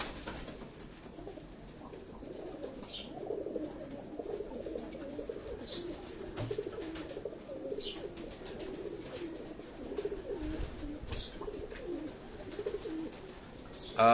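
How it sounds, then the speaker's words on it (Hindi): Male pigeons on a Karachi rooftop coo in soft, repeated rolling calls, fairly faint over a low background hum, with occasional brief chirps. "ये सारे उनकी नर कबूतर जो हैं ये आप देख रहे हैं"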